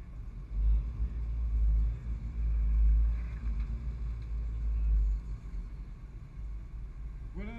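Porsche 924 Turbo cars arrive at the parc fermé in Monaco. A faint, low engine rumble swells and fades at a distance.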